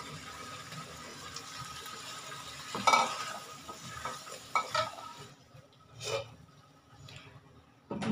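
Potatoes fry in spice masala in a pan, giving a soft, low sizzle broken by a few scraping stirs, the clearest near the middle and toward the end. No one speaks.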